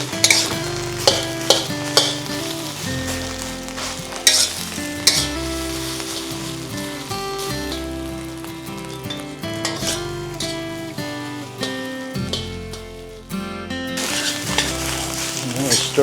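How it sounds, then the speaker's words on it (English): Fried rice stir-fried in a pan on high heat, with loud continuous sizzling and frying and repeated scraping and clanking strokes of a utensil against the pan, close up. "Stir fry."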